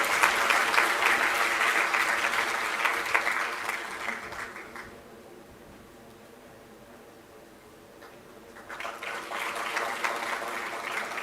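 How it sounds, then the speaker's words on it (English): A convocation audience applauding a graduate, sustained dense clapping that fades into quiet midway through, then swells again toward the end. "Please give her a huge round of applause,"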